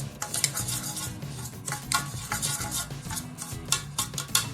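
A spoon stirs and scrapes through a thick sweet mixture with melted ghee for Goan kalkal, giving soft irregular scraping and clinking strokes close by, with no voices.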